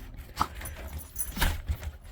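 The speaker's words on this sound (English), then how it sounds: "Hey, puppies." Puppies whimper and pant in short, soft bursts close by on a cold morning in Florida, with low rustling underneath and no speech.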